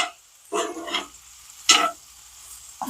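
Potatoes fry in butter in a pan, giving a soft sizzle that swells in a few short bursts as they are stirred, quiet between stirs.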